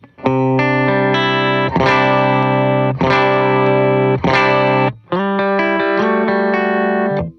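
An electric guitar through a Sound of Justice boost pedal, with a boosted, gritty tone, rings out sustained chords, loud and up front, with short breaks between strummed phrases.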